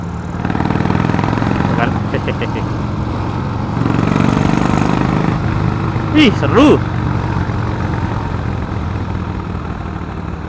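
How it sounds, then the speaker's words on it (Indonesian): A Harley-Davidson Sportster 1200cc motorcycle idles with a steady, close, low rumble that runs throughout while a person talks over it. "Suaranya tuh emang enak sih Harley itu."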